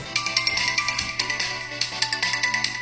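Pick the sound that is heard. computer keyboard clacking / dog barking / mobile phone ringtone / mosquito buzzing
mobile phone ringtone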